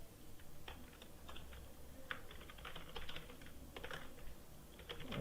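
Code is typed on a computer keyboard in quick, irregular bursts of light key clicks, faint and close, separated by brief pauses, with no voices.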